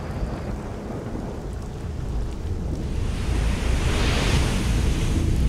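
Storm at the coast in the video game Risen 2: heavy crashing waves and roaring wind swell steadily louder, a dense continuous rumble with no voices.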